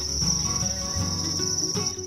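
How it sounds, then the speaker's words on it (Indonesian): Crickets raised at home as feed for songbirds chirp in a steady, loud, continuous high trill, with a low background rumble beneath. "membudidayakan jangkrik di rumahnya"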